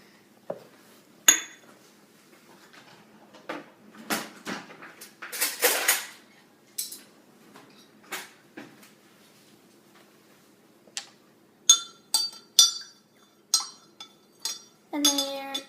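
Spoons clink and scrape against cups as half-and-half cream is stirred in. Sharp, scattered taps ring out close by, with quiet gaps between bursts, and a few brief words are spoken.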